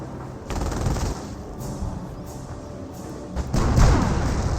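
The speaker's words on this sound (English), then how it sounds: "I hear a bunch of Hellcat fire" Tank destroyer cannon and mixed battle gunfire from the Company of Heroes strategy game, a dense stream of thumps and bursts with heavier blasts near the start and toward the end, loud and continuous with no talk.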